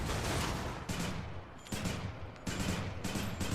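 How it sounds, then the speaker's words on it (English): Rockets firing in rapid bursts in the video game Hades, dense explosive volleys coming in three or four loud clusters with brief dips between. "I can fire 5 rockets now."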